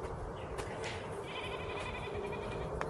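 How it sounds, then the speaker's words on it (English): Goats bleat faintly and some distance off in a warm outdoor setting, a few short wavering calls over a low steady background hum. "You hear the goats?"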